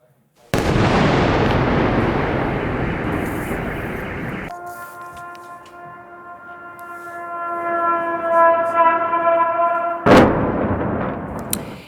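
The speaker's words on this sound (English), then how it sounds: "you hear the sirens, you see the explosions as Russia hit the capital city with those drones and missiles" In Kyiv during a Russian drone and missile attack, a loud blast rumbles and decays, then an air-raid siren wails steadily before another heavy explosion booms in.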